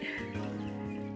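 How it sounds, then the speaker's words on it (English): Chickens cluck softly nearby in a short burst of low, repeated clucks and murmurs against a quiet background. "those are chickens, not guineas"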